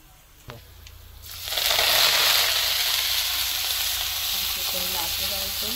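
Chickpea greens dropped into hot oil already cooking with garlic and fenugreek seeds, over a wood-fired chulha, burst into a loud, steady sizzle that starts after a brief clink and keeps hissing close by.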